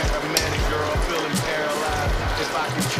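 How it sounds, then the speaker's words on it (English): Raw shrimp are added to a hot pan for shrimp alfredo and sizzle steadily, a close, dense frying hiss with a few soft clatters and bumps from the pan over the top. "I'm gonna add the shrimp onto there."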